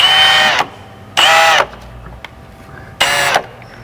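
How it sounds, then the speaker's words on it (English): Three loud bursts of a power drill whining through a van's metal pinch weld, each lasting about half a second, separated by short quiet pauses. "Take our drill, make our holes."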